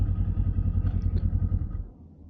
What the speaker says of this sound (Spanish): la moto se para porque está en modo eco